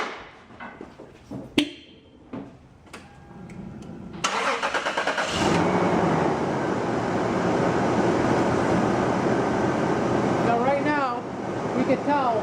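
A car engine idles steadily with the air conditioning switched on, a broad constant whir filling the clip after a few scattered clicks and clunks at the start, with a brief squealing chirp near the end.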